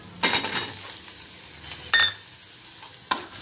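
Eggplant being stir-fried with lightly browned onions in a pan, with a few brief loud scrapes and clatters of a spoon against the pan over a soft, steady background sizzle.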